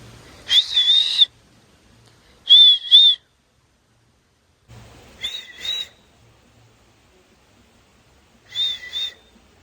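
A woman whistles four short two-note calls imitating a koel's song, each burst clear and fairly loud, separated by pauses in a quiet outdoor setting.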